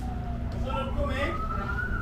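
A fire truck siren wails steadily at mid distance through a countryside setting, a long rising tone sustained across the whole stretch, with background noise beneath.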